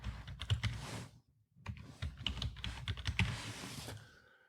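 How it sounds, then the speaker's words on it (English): Close computer keyboard typing in two bursts of rapid, uneven key clicks broken by a brief pause, as a username and password are entered during a Manjaro Linux install. "so I'm just going to hit next and enter my normal username and my"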